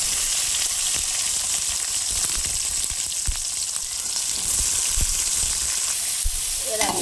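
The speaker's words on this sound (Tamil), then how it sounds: "எல்லாத்தையும் சேர்த்து நல்லா ஆனியன் வந்து நல்லா ப்ரௌன் கலராக வதங்கட்டும்" Onions, green chillies, curry leaves and spices frying in sesame oil in a pan, a steady loud sizzle throughout with occasional stirring knocks and no talk.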